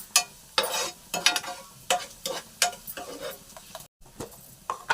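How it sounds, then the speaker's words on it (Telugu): Onions frying in a pan for liver fry, with a spatula stirring and scraping in short repeated strokes over a low, soft sizzle, close and fairly quiet. "ఈ ఉల్లిపాయలని దోరగా వేయించేసుకుందాం"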